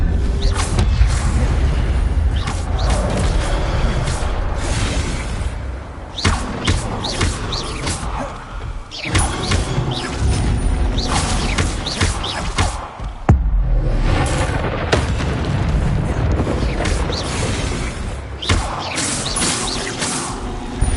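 Spell combat in the Hogwarts Legacy video game, an Expelliarmus cast among other spells: dense, loud, continuous booms, crashes and whooshes with sharp hits throughout.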